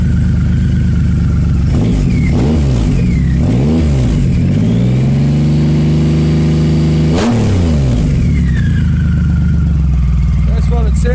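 A Triumph Rocket 3 motorcycle with a polished stainless single-pipe Super Trap exhaust and chrome heat shields revs up in several loud, close bursts, falls back to a steady idle, then blips once more before settling.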